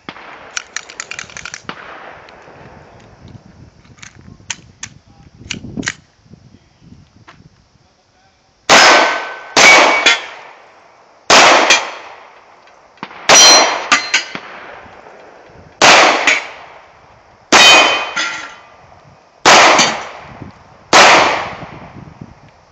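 Hi-Point C9 pistol fired with Remington bulk ammunition outdoors, a slow series of about eight loud sharp close gunshots spaced a second or two apart, following some faint clicks and handling noises.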